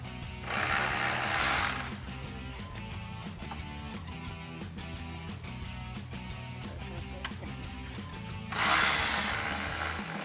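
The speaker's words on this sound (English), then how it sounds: "remove our 4 bolts holding our upper intake cover on using our 8mm socket, a small extension on our ratchet" A ratchet with an 8mm socket on a small extension loosens the bolts on the upper intake cover of a 2021-2023 Ford Bronco, its pawl clicking in rapid, steady repeated bursts close up, with a couple of louder rushes of noise.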